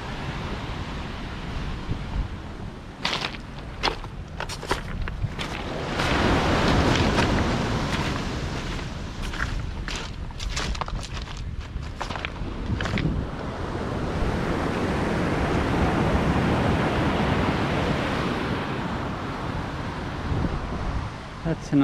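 Ocean waves rolling onto Shrimp Beach (Playa Camarones) in Puerto Vallarta, a continuous surf wash that swells and recedes with strong wind buffeting the microphone, and a voice briefly heard.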